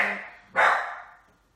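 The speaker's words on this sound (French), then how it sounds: "ma chienne vient d'aboyer" A dog barks once loudly and close, a sharp single bark rising out of faint background sound in a home during a live talk.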